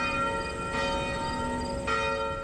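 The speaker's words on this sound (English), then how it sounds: "The bells tolled for Elena Erdl" Church bells toll for a young child's funeral in a small town, sustained ringing tones with fresh strikes roughly every second, moderately loud and heard alone with no voices.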